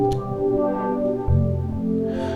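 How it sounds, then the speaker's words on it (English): Sustained Roland Juno synthesizer chords with soft, lush harmonic tones, a new chord entering around the midpoint with a fuller low end, played alone without any talking. "So this is a classic kind of Juno sound."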